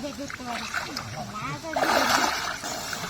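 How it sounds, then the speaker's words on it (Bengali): Water splashes as a man dives under in a pond or river to catch fish, a brief burst of splashing and sloshing in the middle of the clip while people talk throughout. "বাবা আবারও ডুব দিল মাছ ধরার জন্য"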